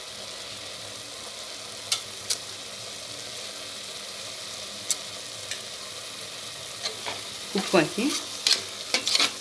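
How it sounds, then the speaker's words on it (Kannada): Mushroom biryani masala sautés in hot oil, a constant dense sizzle with a few sharp spoon clicks, then busier scraping and stirring toward the end, while a brief spoken word passes over it. "ಮಸಾಲೆಯನ್ನು ಎಣ್ಣೆಯಲ್ಲೇ ಬಾಡಿಸಿ"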